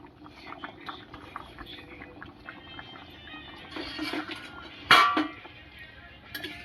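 Chicken soup, thickened and boiling in a pot, gives off a soft, close bubbling and patter. Scattered utensil clinks come through, and one sharp clink stands out near the end.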